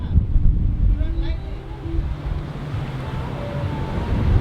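Surf breaking along the shore, a steady broadband wash of churning water with a low rumble that swells at the start and again near the end, continuous and fairly close.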